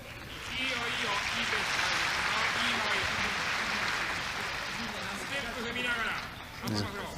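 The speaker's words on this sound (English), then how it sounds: "There's a ripple of applause around the crowd for Murao finishing out on top there." Ripple of applause from the crowd at a judo tournament final in Tokyo, steady clapping with crowd noise and overlapping commentary talk throughout, fading near the end.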